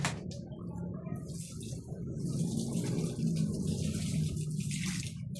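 Water pours steadily from a container onto small potted aloe vera plants, a continuous soft splashing and trickling that lasts several seconds, close by and moderately quiet.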